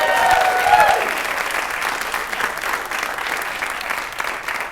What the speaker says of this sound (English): thank you very much for that half-assed applause